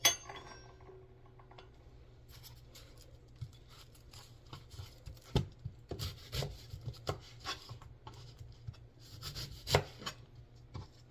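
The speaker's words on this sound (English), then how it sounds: "Cutting up our onion." A knife cuts a peeled onion on a cutting board for taco salad: a few scattered taps at first, then irregular, fairly close chops and scrapes in the second half, with no talking.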